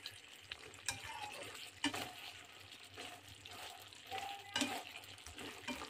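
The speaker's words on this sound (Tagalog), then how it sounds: "Ihalo na natin guys." Pork adobo sizzling and frying in a pan while a spatula stirs it, with steady close frying hiss and periodic scraping strokes, fairly quiet overall.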